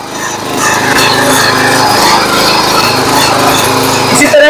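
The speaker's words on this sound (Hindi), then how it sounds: "छोटे ट्रैक्टर से जुताई नराई गुड़ाई किसान भाई बड़ी आसानी से अपना काम कर सकता है" A small power tiller engine runs steadily in a farm field during ploughing and weeding, a loud continuous buzzing drone that holds for the whole stretch with no voices over it.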